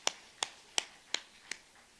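Five sharp, evenly spaced hand claps ring out one by one in a Korean church Sunday worship service, quiet and a little distant, with no voices between them.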